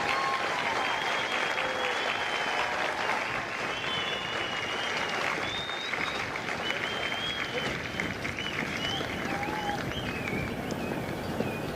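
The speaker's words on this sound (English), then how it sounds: "Ladies and gentlemen, please join me in a round of applause for the company staff of Kilo Company." Audience applause for the company staff at a Marine Corps recruit depot graduation ceremony in San Diego, a dense, sustained outdoor clapping from a large crowd with scattered whistles and cheers throughout.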